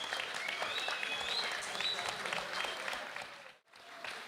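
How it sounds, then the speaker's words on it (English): A big arena crowd at the final of a beetleweight combat robot tournament, the BBB Beetle Brawl 2024, applauds and cheers steadily, dense and sustained before dipping briefly near the end and swelling again. "And you can hear the crowd. They are very, very happy with that conclusion."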